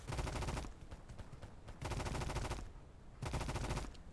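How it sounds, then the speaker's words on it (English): Bandits in the survival game Mist Survival fire bursts of rapid gunshots, three clusters of quick cracking shots separated by short gaps, fairly close and alone without talk. "I think the bandits are trying to shoot at me."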